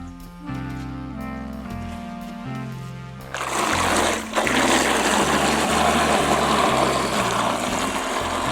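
A small Lego RC boat goes into the water: quiet tonal noise at first, then a sudden broadband rush of spinning propeller and splashing water that stays loud and steady to the end.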